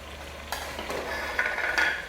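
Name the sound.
garlic paste and spices frying in oil for siri paya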